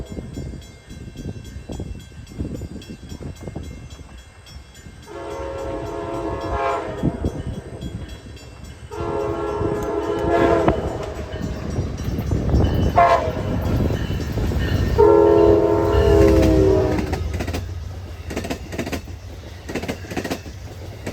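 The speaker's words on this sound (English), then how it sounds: "here comes northbound Downeaster 683 overtaking M426 on track 2" A northbound Amtrak Downeaster passenger train rumbles past up close and loud on track 2, its horn sounding several long blasts over the clatter of the wheels.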